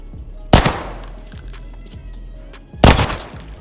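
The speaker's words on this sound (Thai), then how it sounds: "ถือว่าเป็นปืนลั่นทีละสองนัดนะ" A gun in the shooter game Arena Breakout Infinite fires two rounds with each trigger pull, giving two loud, sharp bursts about two seconds apart over a low, steady background.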